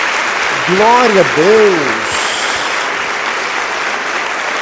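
A church congregation claps steadily and continuously throughout, a dense wash of applause with a voice speaking briefly over it near the start.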